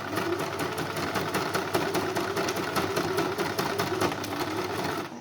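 A domestic sewing machine stitches a fabric face mask, running with a fast, even mechanical rattle that stays close and steady throughout, sounding slightly strained.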